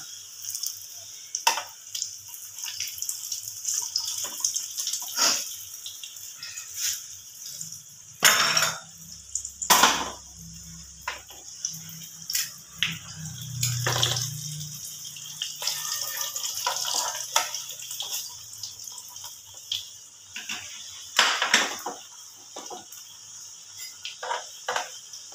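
Puffed-up fried items sizzle in hot oil as they are flipped, giving a steady crackling hiss with louder spitting bursts every few seconds, fairly close and without speech.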